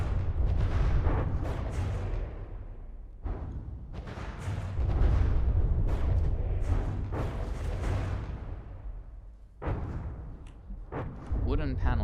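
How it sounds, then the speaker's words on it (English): Repeated explosions tear apart wooden panels in a video game battle, a dense run of heavy booms and splintering crashes with brief lulls, while a commentator's voice runs underneath throughout. "Just look at those explosions."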